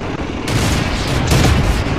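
Tank cannon fire in World of Tanks comes as loud, booming blasts, with a heavy report at about half a second and another rumbling burst soon after over continuous battle noise.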